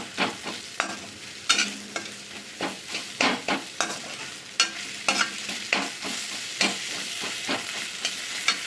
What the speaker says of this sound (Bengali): আর একটু আমি ভেজে নেব।